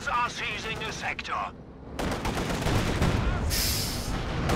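Rapid machine gun bursts and crackling gunfire in a Company of Heroes 2 multiplayer battle, a dense continuous clatter with a brief lull mid-clip, layered with other battlefield effects.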